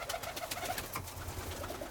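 Birmingham Roller pigeons cooing in their loft, a run of soft, close, repeated low coos overlapping one another over a faint background of rustling.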